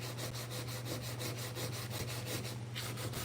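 Rhythmic back-and-forth sanding on the hood of a 1986 Chevrolet C10 truck, the strokes steady and evenly spaced, close and continuous over a low hum.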